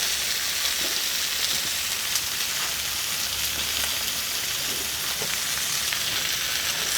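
Thick steaks searing in a hot pan give off a loud, steady sizzle and crackle that runs unbroken and close for the whole stretch, with occasional sharper pops and no talking.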